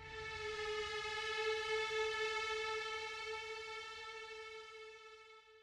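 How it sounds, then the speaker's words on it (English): A string section sustains an A note processed with heavy distortion and reverb, producing a steady, loud, siren-like drone rich in stacked harmonics that holds throughout and slowly fades toward the end, with no talking. "Just added some heavy distortion and reverb and it sounds like a siren."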